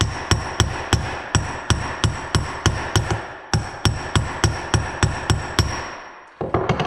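A hammer strikes a socket in a steady series of about twenty sharp metallic taps, seating a bearing race on an old tractor, each ringing blow close and loud, with a brief pause midway and near the end.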